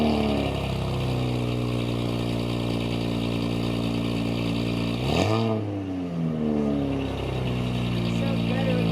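A Nissan J30 engine fitted with new headers runs close and loud, a steady throaty idle with a brief blip or dip in revs midway before settling back to a smooth, even hum.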